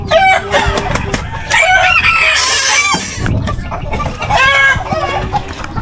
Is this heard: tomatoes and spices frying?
no